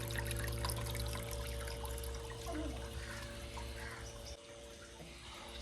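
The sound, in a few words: water running into an air cooler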